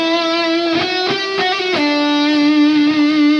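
A distorted electric guitar plays a solo passage from a song, a sustained high lead line broken by a few quick picked note changes, loud and close with no talking.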